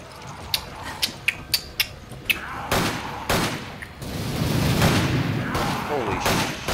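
A rapid burst of sharp gunshots in Resident Evil 5, six quick cracks, followed by louder booming blasts and rumbling action noise.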